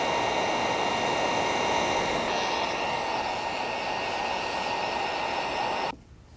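A heat gun warms tint film on a Kia Telluride taillight, giving a steady, loud broadband blowing hiss with a faint whine that holds evenly, then cuts off abruptly near the end.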